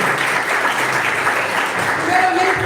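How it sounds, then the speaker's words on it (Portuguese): A church congregation applauds the Lord during a service, sustained dense clapping filling the room with a speaking voice carrying over it. "Irmão, vamos aplaudir o Senhor pela vida dessa mídia"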